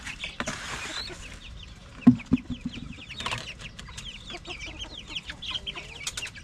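Chickens cluck and chatter close by, a busy flock of short overlapping calls with a few louder squawks, and no talking.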